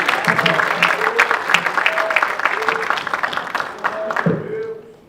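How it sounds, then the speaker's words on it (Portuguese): A church congregation at a communion service claps in praise, a full round of applause with scattered voices and cheers over it, tapering off and dying away toward the end. "Quem pode glorificar uma salva de palmas para o meu querido Jesus?"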